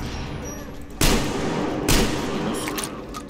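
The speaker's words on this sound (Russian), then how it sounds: "Первая граната пошла." Two grenade explosions in the video game Metro Exodus, loud sharp booms about a second apart over a steady background of game noise.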